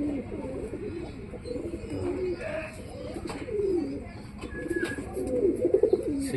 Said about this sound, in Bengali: এখন কিন্তু বাবা কবুতরটা আদার খাওয়াইতেছে।